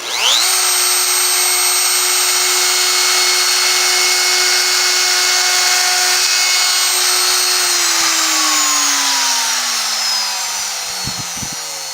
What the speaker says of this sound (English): Turn the router off.